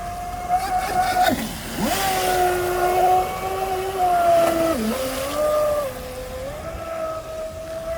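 A Proboat SonicWake 36 RC boat running flat out on a 4S battery, a high electric whine that dips and swings in pitch as it carves hard corners, fairly close and continuous.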